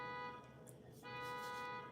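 An electronic alarm sounds in a kitchen, a steady multi-tone buzzing wail held at moderate level across the whole stretch, dipping briefly midway before resuming.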